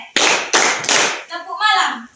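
A class plays a clapping game, with three sharp bursts of hand claps in quick succession followed by a child-like voice chanting.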